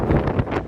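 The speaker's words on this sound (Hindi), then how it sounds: "बहुत ही तेज़ हवा थी" Strong wind buffeting the microphone on the open top deck of a ship at sea, a close, loud rushing roar in gusts with no voices.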